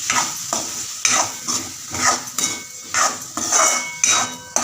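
Ivy gourd pieces tossed in a pan after salting give a rhythmic series of scraping stir strokes, about eight in a row, over a light sizzle, close and fairly loud, with no talking.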